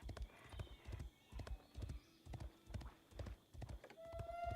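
Hooves of a video-game horse clip-clop in a quick, regular trot, each beat crisp and close, with a faint tonal game sound near the end and no talk over it.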